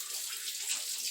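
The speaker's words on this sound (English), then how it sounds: "Let me wash my hands." Hands being washed under a running kitchen tap, a steady close rush of water splashing into the sink for a moment, with no voices.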